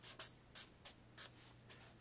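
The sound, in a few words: writing notes by hand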